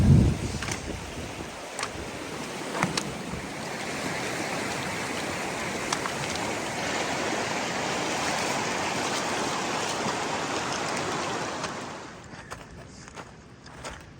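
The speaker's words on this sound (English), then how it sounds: "You cross Bush Creek quite a lot." Bush Creek water flowing steadily along the Te Araroa Trail in New Zealand, a broad continuous rushing wash heard close, with a few faint knocks and footsteps near the start and end and no talk.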